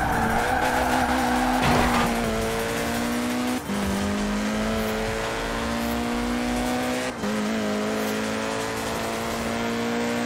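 A VW Scirocco racing at high speed in Forza Horizon 4, its engine holding a steady high whine that climbs through gears, with brief tire squeals and shift dips, loud and continuous with no talk.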